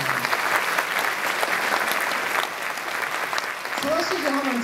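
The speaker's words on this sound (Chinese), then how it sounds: "再次掌声" An audience at the COSCUP 2013 open-source conference closing ceremony claps in a full, sustained round. A voice briefly speaks as the clapping continues near the end.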